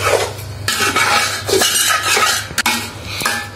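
Bhuna khichuri with lentils is stirred and sautéed in a pot, and a metal spoon clanks and scrapes against the pot in uneven strokes over a low sizzle. No one speaks.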